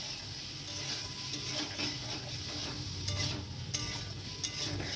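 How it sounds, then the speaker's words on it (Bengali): Ginger paste and ground cumin-coriander paste fry in a pan with oil while being stirred, making a steady sizzle broken by repeated scraping strokes. The sound is close and no one speaks. "ভালো করে নাড়াচাড়া করে নেব"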